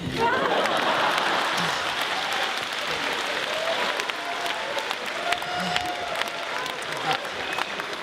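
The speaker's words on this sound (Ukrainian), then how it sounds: "Оплески." Audience at a Ternopil comedy league show in Lviv breaks into steady, dense applause with a few cheers, filling the whole stretch at an even, fairly loud level with no talk over it.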